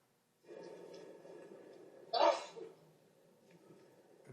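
A single sharp sneeze bursts out near the middle, loud and close, over a low steady background hum of a bond courtroom.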